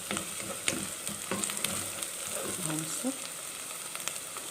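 Onion and chicken gizzards sizzling and frying in a pan, a steady crackle with occasional stirring clatters, close and moderately loud; someone briefly speaks over it.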